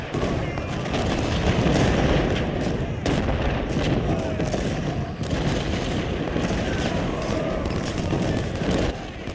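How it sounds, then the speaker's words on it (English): Artillery fire in the Civil War strategy game Ultimate General: Civil War, heard as continuous booming cannon and rattling gunfire in a dense battle din, with commentary voiced over it. "But our artillery here, we've got him firing on that wing."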